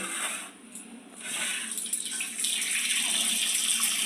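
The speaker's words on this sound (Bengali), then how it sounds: "আজকে কলের জলটা খুব ভালো দিয়েছে দেখুন কত মোটা জল পড়ছে" A tap pours a thick, steady stream of water into a kitchen sink while fish is being washed, a close and continuous rushing hiss that grows fuller toward the end.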